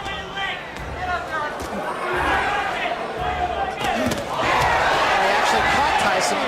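A boxing arena crowd cheers and roars at the Jake Paul vs Mike Tyson fight, the noise rising and swelling toward the end under a commentator talking over it.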